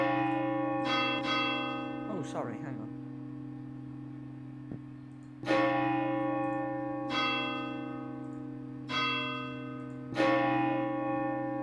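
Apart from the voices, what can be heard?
church bells ringing at St. Johannis Lüneburg in Roblox video game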